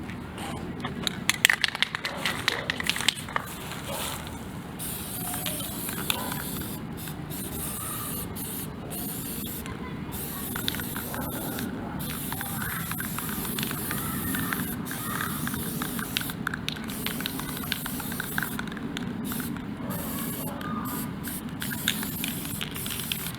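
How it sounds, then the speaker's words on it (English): Spray paint hissing steadily onto a homemade all-metal kayak cart, long continuous bursts with brief pauses, close and fairly loud with no talking. "Finally, just spray paint it."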